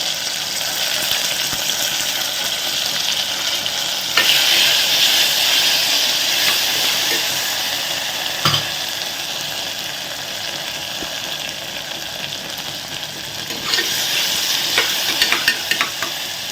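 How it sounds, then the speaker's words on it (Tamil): Onions and a small tomato sauté in a hot pan for a vegetable aviyal, a loud, steady, close sizzle with hissing steam and occasional stirring scrapes. "நல்லா வதக்கி விடுங்க வெங்காயம் வந்து வதங்கட்டும்"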